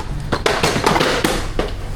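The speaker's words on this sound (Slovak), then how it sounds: "buchol som trošku a povaľal im čokolády" Chocolates knocked over in a shop in Thailand, a quick close run of sharp clattering taps and thuds bunched over two seconds, with a faint voice in the background.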